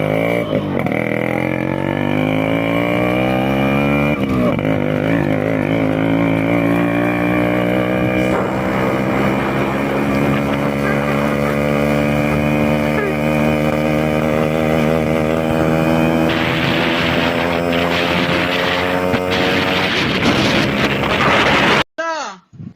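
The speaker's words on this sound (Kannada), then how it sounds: "ಫೈನಲ್ ಆಗಿ ಒಂದ್ಸಲ ಈ ಗಾಡಿ ಸೌಂಡ್ ಮಾತ್ರ ಕೇಳಿಸ್ಕೊಳ್ಳಿ" A Yamaha RX 135 motorcycle engine runs steadily up close, its buzzing tone climbing gradually as the revs build over about twenty seconds before cutting off abruptly.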